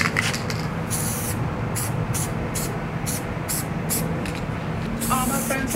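Flame orange acrylic spray paint hisses from an aerosol can in a series of short bursts, each a second or less with brief gaps between, over steady background music.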